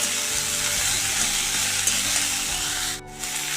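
Boiled banana stem and fried potatoes being stirred in a hot pan, giving a dense, continuous close-up sizzle with scraping strokes throughout and a brief dip near the end.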